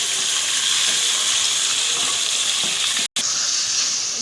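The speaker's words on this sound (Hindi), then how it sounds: "ये अच्छी तरीके से यहाँ पे फ्राई हो रही है" Chicken pieces sizzle loudly in a karahi seasoned with turmeric and salt over a high flame, a steady close hiss of hot oil with a brief cut near the end.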